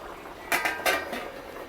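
A metal lid is set onto a cooking pot of vegetarian aloo dum, giving two or three quick clanking hits close by, then quiet.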